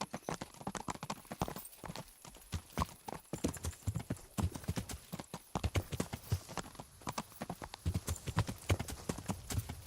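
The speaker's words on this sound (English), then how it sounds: "Cavalo." In Kingdom Come Deliverance a horse trots along with crisp hoof clip-clops in an uneven, lively rhythm, near and prominent, with occasional short pauses between bursts of steps.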